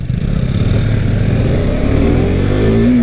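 A KTM RC 390 with a 373 cc single-cylinder engine revs up loud and close, its pitch climbing steadily as it accelerates with no pause.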